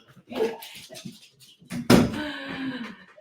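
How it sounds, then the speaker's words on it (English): Dogs bark indoors at home as someone arrives at the door: one sharp, loud bark bursts out midway and rings briefly, after earlier indistinct murmuring. "Dogs barking, someone's at the door."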